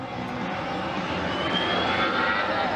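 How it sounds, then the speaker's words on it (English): Stunt planes performing at an air show in Slovakia, a loud sustained engine roar with a rising whine as one aircraft passes close overhead. "Two planes perform amazing stunts at an air show in Slovakia."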